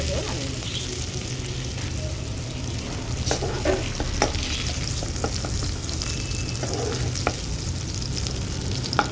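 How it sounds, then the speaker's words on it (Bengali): Papaya and sweet potato pieces fry in oil in a pan for a Bengali shukto, giving a steady crackling sizzle with occasional stirring clinks and scrapes, close and continuous. "এখানে পেঁপে আর মিষ্টি আলুটা বেশ ভালো করে ভাজা ভাজা হয়ে গেছে"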